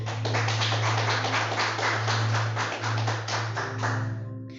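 A church congregation claps for Jesus, a dense sustained wash of many hands clapping at once, loud and close, with a steady low hum underneath that fades out at the end.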